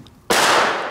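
A Nico Crash firecracker from a New Year's Eve assortment bursts once after a quiet moment, a loud sharp bang followed by a ringing, slowly fading roar.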